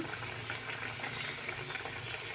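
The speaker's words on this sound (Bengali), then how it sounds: "এই দেখো আমি একটা পাশ উল্টিয়ে দিলাম তো ভাজা হচ্ছে" Egg chops fry gently in hot oil, a faint, steady crackling sizzle with small pops, heard close with no talk over it.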